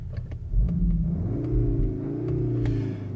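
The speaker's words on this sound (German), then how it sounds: "vielleicht gebe ich im Leerlauf noch mal ein bisschen Gas hier." A 2021 Cupra Formentor VZ (310 PS) engine idles in park with a low rumble, then revs up and holds a higher droning pitch before settling, close and loud with no talking.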